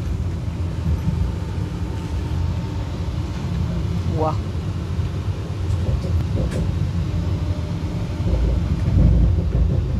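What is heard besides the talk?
Vande Bharat Express train picking up speed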